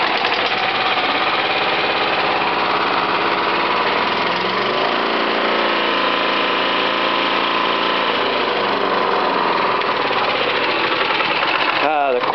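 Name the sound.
Honda HR194 lawn mower engine running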